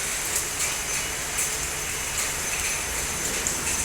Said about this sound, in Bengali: বাইরে বৃষ্টি পড়ছে তার মধ্যে ভিজছি আর ভিডিও করছি